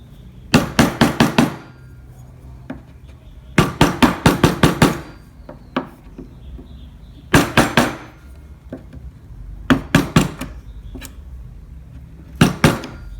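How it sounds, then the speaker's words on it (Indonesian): A hammer taps a gouge chisel carving into wood, sharp strikes coming in quick clusters of four to six, separated by brief pauses, loud and close. "selanjutnya di bagian sela-selanya ini kita rapikan menggunakan pahat kol ya, yang sesuai dengan bentuk selanya"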